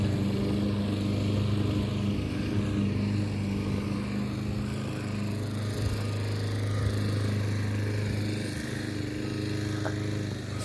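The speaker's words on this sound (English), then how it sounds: "that person mowing in the background" A lawn mower runs continuously in the background, a steady low engine drone with constant harmonics and no clear breaks, heard at moderate level with no voices.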